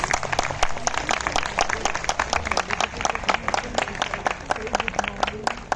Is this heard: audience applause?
yes